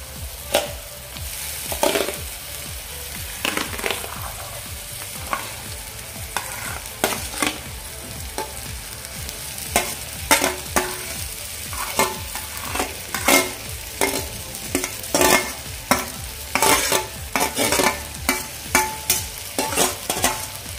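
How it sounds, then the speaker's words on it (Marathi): Mashed eggplant being stirred into a hot, oil-released spice masala for vangyache bharit, giving close, steady frying sizzle with repeated scraping and clacking stir strokes throughout, no talk. "आता आपण यामध्ये मॅश करून घातलेलं वांगं घालून घेऊया"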